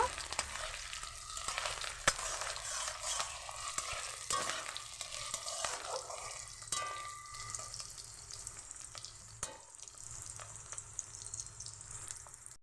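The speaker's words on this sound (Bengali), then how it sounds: "কুচিয়ে রাখা পেঁয়াজগুলো দিয়ে দিয়েছি। এটা ভালোভাবে ভেজে নেব।" Chopped onions fry in hot mustard oil with a continuous crackling sizzle, punctuated by frequent scraping clicks of stirring, heard close with no talk.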